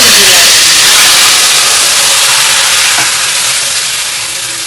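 Marinated chicken dropped into a hot karahi for white chicken karahi, giving a loud, dense, steady hiss of sizzling that fills the whole stretch and eases off slightly toward the end.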